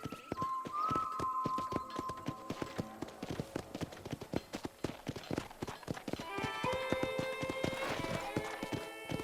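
Hooves clip-clop in a quick, steady rhythm close by in the video game Red Dead Redemption, with a horse's whinny partway through over faint tonal background sounds.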